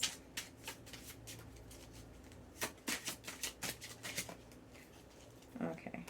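A deck of tarot cards is shuffled and cards are drawn, with soft riffling flutters and a run of quick, close card snaps, faint and intimate, with a quiet voice nearby.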